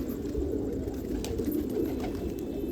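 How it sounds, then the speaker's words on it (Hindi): Patiala pigeons coo on a rooftop in Rohtak, a soft, continuous murmur of low, repeated coos from several birds close by, with no voices. "सारे के सारे दौड़ के मतलब के कबूतर है"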